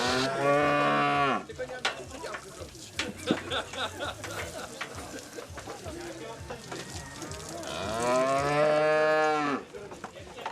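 Cattle at a livestock show give two long, loud moos, one at the start and one near the end. Between them come the clatter and murmur of a busy barn, and a voice speaks faintly in the background.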